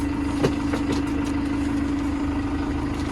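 A tractor's inline four-cylinder engine idles quietly with a steady low hum and faint rhythmic knock, heard close and continuous with no voices.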